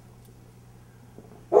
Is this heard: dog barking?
yes